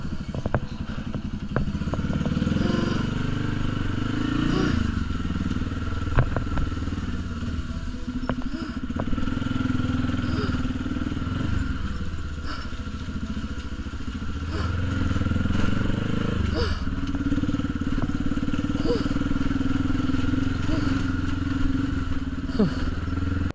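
A large motorcycle is ridden through a narrow, congested road, its engine giving a steady low rumble throughout with occasional faint clatter and knocks.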